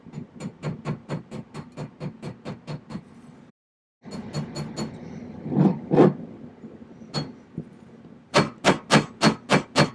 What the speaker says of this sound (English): Now I'm going to try and gently knock out these high points.